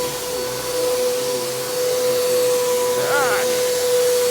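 A Bissell PowerTrak Compact or Hoover WindTunnel vacuum cleaner with a poor-sounding motor runs close by, giving a loud, continuous whine and steady airflow roar with a slight shift in pitch partway through.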